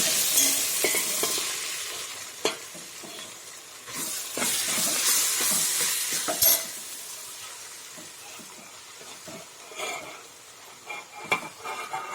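Hot oil sizzles and hisses in a pan as a tempering for puffed rice upma crackles, with occasional scraping and clinking of a utensil, nearby and steady.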